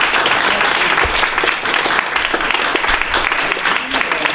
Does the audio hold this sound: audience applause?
yes